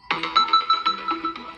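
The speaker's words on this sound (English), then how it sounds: "And then you have the alarm tone." Alarm tone from a RedMagic 9 Pro Plus phone: a loud, bright electronic ringtone melody with a rapid pulsing rhythm, playing alone and close by.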